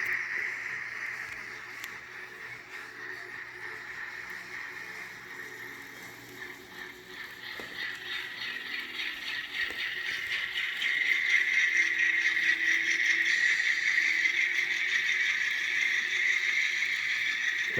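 N-scale model Alco locomotive running under load, a continuous whining motor hum with faint rattling that swells and holds steady as the engine picks up speed.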